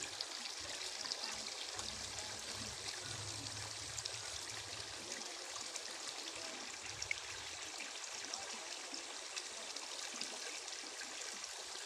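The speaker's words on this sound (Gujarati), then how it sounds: "કેવું અહીંયા પાણી મસ્ત કેવું પડે છે" Water pours and falls steadily during monsoon rain, a continuous broad rushing splash with no breaks, fairly close and alone, no voices over it.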